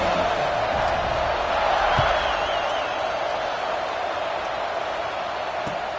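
Stadium crowd at an Ohio State vs Clemson college football game, heard as a loud, steady roar of cheering before a kickoff, with a few whoops rising out of the noise.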